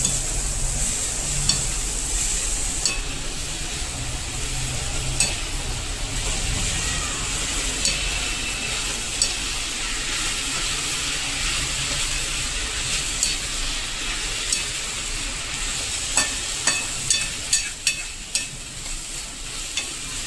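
Potato dry curry sizzles in oil as a spoon stirs it, a steady frying hiss with repeated scraping clicks that grow more frequent toward the end, heard close and without talk.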